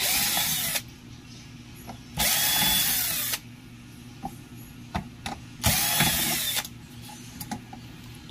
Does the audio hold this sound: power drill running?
yes